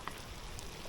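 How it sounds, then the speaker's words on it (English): Pouring rain pattering steadily on surfaces during a Mekong catfish fishing trip, a dense, even hiss with no voices. "I want to get out of the rain"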